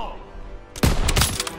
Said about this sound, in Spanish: Me encanta el sonido de cuando dispara, tío.